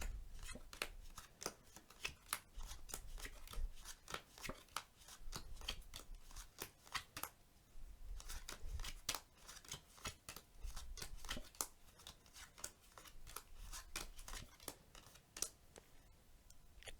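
Playing cards are dealt one face up and one face down in a steady run of soft, close snaps and slides, quiet and rhythmic with brief pauses between dealing runs.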